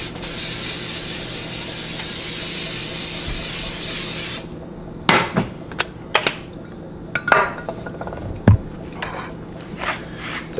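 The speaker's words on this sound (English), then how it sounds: "Let's spray the pan down." Cooking spray hisses continuously onto a pan for about four seconds, close and loud, followed by a few light clinks and knocks of kitchen utensils.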